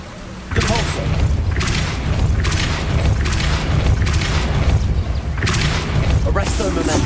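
Booming, rumbling blasts from the Depulso spell in the Hogwarts Legacy video game, loud and continuous, with repeated bursts swelling over a dense game soundscape.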